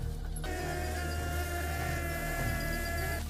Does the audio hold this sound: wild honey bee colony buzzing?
yes